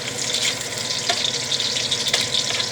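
Ginger and onion cook in a pan for a mussel dish, giving a steady, close, bright sizzle that runs throughout with a few brief scrapes and no talking.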